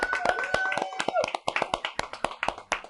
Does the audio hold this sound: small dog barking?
no